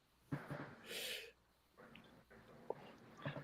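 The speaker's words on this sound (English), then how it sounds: "that sounds like a big old bear over snoring" A person snoring nearby, with a few heavy snorting, wheezy breaths in irregular rhythm, fairly faint and with no talking over it.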